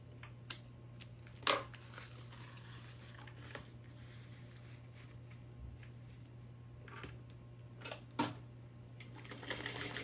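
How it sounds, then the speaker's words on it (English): A home sewing machine stitches darts in garment fabric at a quarter-inch seam allowance, giving a quiet steady hum broken by sharp clicks and clacks from handling and presser-foot movement, fairly close. "Pretty much we're just sewing these dart clothes at a 1/4 of an inch seam allowance."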